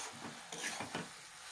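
Malabar spinach with its stems being stirred and fried in a pan, giving a soft, steady sizzle with a few brief scraping stir strokes, fairly quiet and close, with no talking.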